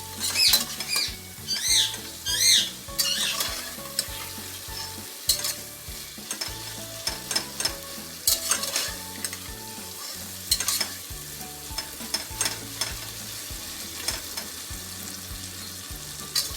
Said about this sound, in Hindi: अब इसके साथ ही ज़ीरा, ये कसूरी मेथी और ये खुशक धनिया डालना है आपने अब इसको अच्छी तरह भून लेना